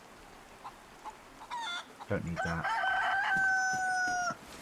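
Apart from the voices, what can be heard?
chicken clucking in the video game DayZ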